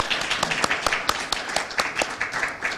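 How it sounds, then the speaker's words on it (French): Applause from an audience at a presentation, with loud individual claps standing out in a quick uneven rhythm close by over a denser bed of clapping. "je vous demande d'applaudir très fort"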